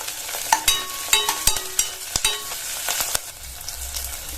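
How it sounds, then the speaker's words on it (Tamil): Onions with green chillies and curry leaves sautéing in a pan, a close sizzle broken by repeated sharp scraping and tapping strokes of a spatula, irregular in rhythm, fading to a quieter hiss at the end. "இப்ப இந்த வெங்காயம்லாம் ஓரளவு நல்லா வதங்கி வரட்டும்"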